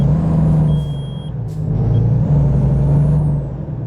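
Heavy Volvo truck engine droning loudly in American Truck Simulator, with tonal whistles sliding up and down and brief hissing bursts as traction slips and is reined in, continuous throughout with no voices.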